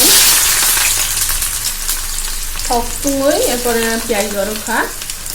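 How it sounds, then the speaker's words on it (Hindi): Sliced onion frying in hot oil in a kadhai gives a steady broadband sizzle throughout, with a brief warbling tonal sound rising over it near the end. "तो मेरा तेल ऑलरेडी गर्म हो गया है। सो एट फर्स्ट हम लोग डाल रहे ऑनियन प्याज"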